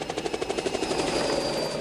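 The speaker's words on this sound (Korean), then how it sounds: "지역 공무원과 질병통제소 연구원들이 한 팀을 이루어 살인 바이러스를 옮기는 모기를 박멸하기 위해 헬리콥터를 이용해 살충제를 뿌리고 있는 모습이다" Helicopter flying low over a US area spraying pesticide to kill virus-carrying mosquitoes, its rotor producing a loud, steady rapid chopping pulse throughout with a continuous engine whine.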